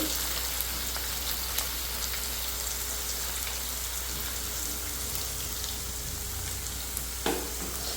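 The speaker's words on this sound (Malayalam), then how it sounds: "കോവയ്ക്ക അവിടെ ഫ്രൈ ആയിക്കൊണ്ടിരിക്കുകയാണ് കേട്ടോ" Ivy gourd (kovakka) frying in coconut oil: a steady, dense sizzle and crackle from the pan that holds at an even loudness throughout, with a few faint pops and clinks and no talk.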